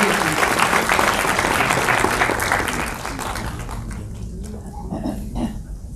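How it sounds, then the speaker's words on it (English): An audience at a BAFTA conversation event with director Ramesh Sippy applauds loudly as a guest is called to the stage, and the clapping gradually thins and fades over several seconds. "A round of applause for Mrs."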